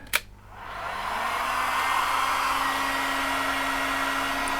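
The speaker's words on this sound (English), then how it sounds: "Just going to give it a quick dry with my heat gun." A heat gun set to 120 degrees dries a washed Sony remote control circuit board, starting with a click, then spinning up into a steady, close, loud whooshing blower hum that holds constant, with no talking.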